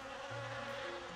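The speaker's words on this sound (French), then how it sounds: "il y a une mouche qui tourne autour de la baie des Bérides." A fly in the video game Stonehearth buzzes steadily around rotting berries, a thin continuous insect drone with a faint pitch shift as it circles.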